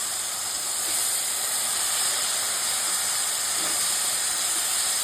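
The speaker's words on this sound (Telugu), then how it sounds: "ఇప్పుడు అరటికాయ ముక్కలు వేసుకోవాలండి." Raw banana pieces sizzle in hot oil as a steady, loud, even hiss that holds from start to finish, with no talk over it.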